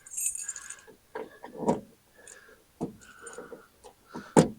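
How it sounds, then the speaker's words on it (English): A large bunch of keys for a 1963 Ford Falcon Futura hardtop jangles and clinks in bursts as keys are sorted and tried, with metallic rattles separated by short pauses and no talk. "Well, I don't know which keys I've tried and which ones I haven't."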